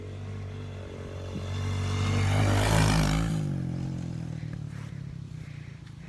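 A dirt bike approaches a jump, its engine rising from a distant buzz to a loud close roar, then trailing off as it passes and moves away.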